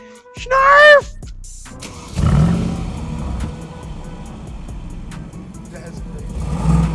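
A 2019 Mercedes G550 G-Wagon with a new FI exhaust revving and driving past, a deep engine roar swelling after a brief high whine, close and loud, with a voice heard briefly at the start.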